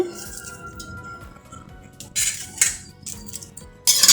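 A spoon stirring green chilli, ginger, curry leaves and coriander in a pan, giving soft scraping and a few sharp metallic clinks that grow louder toward the end, with no voices.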